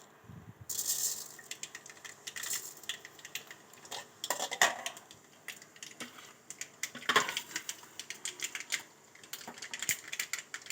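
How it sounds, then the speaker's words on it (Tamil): Mustard seeds spluttering in hot oil in a pan, a dense run of sharp pops and crackles that keeps going without a break, up close and moderately loud, with no voice. "கடுகு நல்லா பொரியுது"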